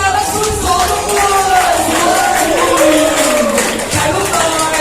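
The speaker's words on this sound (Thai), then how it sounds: "ให้เสียงปรบมือกับนักสู้สองทุกคน" A crowd at an MMA event pitting pencak silat against Muay Thai cheers and applauds the fighters in a dense continuous roar, with an announcer's amplified voice running over it throughout.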